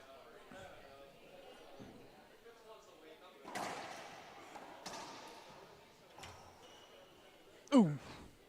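Ball smacking the court and walls during a racquetball serve at a national indoor championship, a few sharp hollow thuds spread through the rally with one louder crack near the end, over low crowd and commentary noise.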